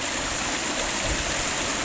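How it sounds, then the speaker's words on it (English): A mountain stream tumbles over a series of little waterfalls on a sandstone upland, a steady, close rushing wash of water with no voices. "I think this is the daddy of the streams that cut down through the edge here."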